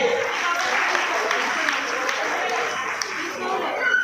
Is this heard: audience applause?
yes